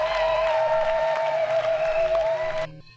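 Church congregation applauding and cheering for the Lord, a steady wash of clapping over a sustained tone that cuts off abruptly near the end.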